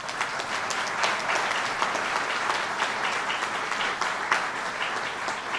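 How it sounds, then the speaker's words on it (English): An audience at a government funding announcement in Binghamton gives sustained applause. Steady, even clapping from a sizable crowd fills the room with no voices. "Give our stakeholders a round of applause"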